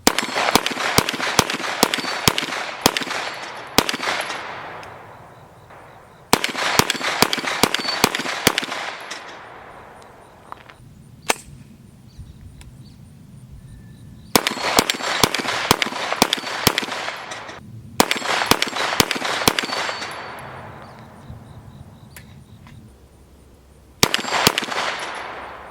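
Rapid strings of pistol caliber carbine shots from an AR-based rifle ring off a steel plate rack, with sharp metallic pings. The shots come in several loud fast volleys, each followed by a fading ring and a short pause before the next.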